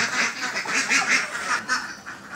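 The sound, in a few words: duck quacking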